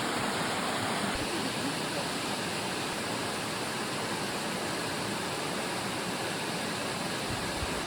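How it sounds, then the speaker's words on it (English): A waterfall on Walker Mountain, a loud, dense, continuous roar of falling water that stays steady and close for the whole stretch, with no clear speech over it. "Amazing falls."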